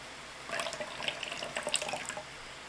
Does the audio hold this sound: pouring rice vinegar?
yes